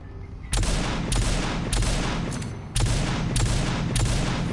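Settler pistol gunfire in the shooter Rage 2, a series of loud, close shots roughly every half second with a short pause midway, each blast ringing out into the next with no talk over it.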